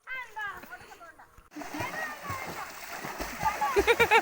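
Water splashes and sloshes up close as people swim in a river, starting after a brief stretch of talk and growing into rhythmic, louder splashing near the end, with voices over it.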